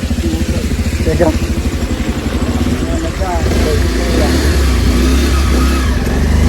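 A close motorcycle engine idles with a rapid, throbbing putter, then revs up into a steadier, louder drone, with a voice heard over it.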